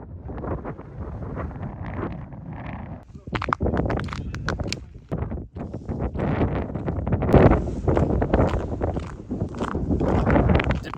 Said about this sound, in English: It's a bit too windy to be flying the drone